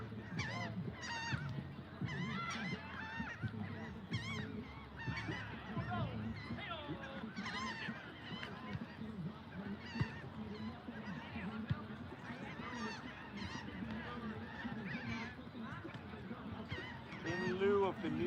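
Many seagulls call continuously with overlapping, honking cries throughout, steady and fairly loud, during an outdoor Earth Day walking meditation.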